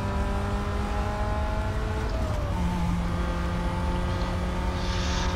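Chevrolet Cobalt engine in NFS Most Wanted, a steady loud drone with a gear change partway through, the pitch dropping then holding, continuous and close without talk.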